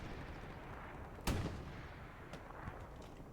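A single sharp tank cannon shot from a video game's Panzer IV duel, a sudden crack with a brief rumbling tail, followed by a few faint distant shots over a low battlefield hum.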